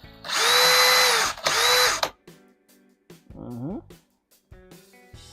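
Dewalt DCD805B 20V Max hammer drill whirring in two loud bursts with a high spinning whine, followed by quieter clicks and handling noises and a short spoken phrase.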